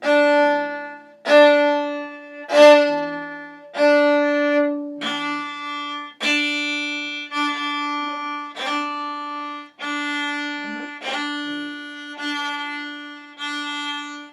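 A single viola, bowed in the top half of the bow, plays a slow series of separate sustained notes, about ten strokes, each starting with a soft attack and holding steadily, alone.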